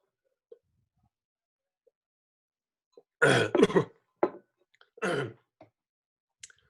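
A few quiet, dry coughs and throat-clearing sounds in an otherwise silent space, clustered together with brief gaps.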